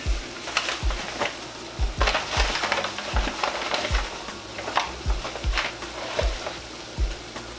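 Flour browning in hot chicken grease for smothered wings and onions, a low sizzle broken by repeated scraping stirs in a steady rhythm, close and moderately quiet.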